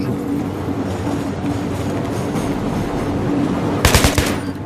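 Rapid gunfire in the Battlefield 3 video game rattles over a dense, rumbling battle backdrop, with a sharper, louder burst of close shots near the end.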